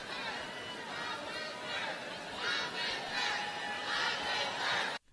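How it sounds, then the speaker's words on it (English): Crowd cheering at a political rally, a swelling mass of shouts and cheers rising in waves at moderate distance before cutting off abruptly. "The crowd is on their feet."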